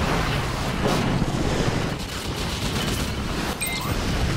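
Sustained gunfire from a naval attack run in Command & Conquer: Red Alert 3, a dense rumbling barrage of shots and explosions against a floating island fortress, continuous and loud throughout.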